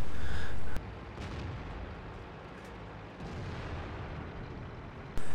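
Artillery shells fire in World of Tanks: a loud, sustained blast opens the moment, the noise drops to a quieter battlefield rumble with faint distant pops, and then another heavy shot bursts in sharply at the end.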